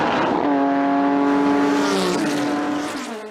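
A Porsche 911 Carrera Turbo engine with a Protomotive Stage 4 upgrade roars loudly on boost, its exhaust note climbing and holding steady with a raspy turbo hiss and open wastegate before easing off.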